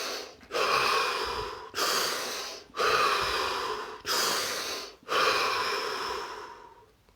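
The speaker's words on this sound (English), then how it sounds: "We're going to take more, this time 3 expansive breaths" Several deep, expansive breaths taken slowly and close up, each a long rushing inhale or exhale separated by brief silent gaps, with no talking.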